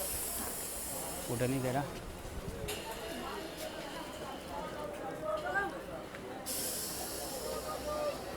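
A Krishnanagar City local train pulls out of Kalinarayanpur Junction, a steady loud hiss and rumble of the moving carriage filling the whole stretch, with brief clanks and people talking close by over it.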